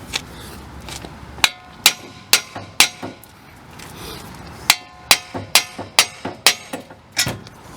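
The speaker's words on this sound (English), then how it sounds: "Hit right on the side and that'll jar it loose." A hammer strikes the side of a tapered part to jar it loose on a Toyota Camry front wheel hub during a wheel bearing replacement, giving loud, close metallic blows in two bursts of about five and seven evenly spaced hits.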